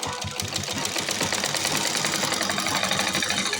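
A sewing machine stitching a salwar runs in a fast, steady mechanical clatter, close and continuous throughout, with no talking.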